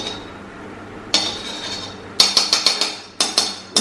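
A metal spoon of ghee added to mustard oil in a pan, heard as a scattered series of sharp metallic clinks and taps against the pan in quick bursts, with little sizzle.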